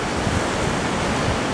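Huge ocean waves crashing on Hawaii's North Shore, a dense, continuous roar of surf and rushing water, loud and close with wind buffeting the microphone.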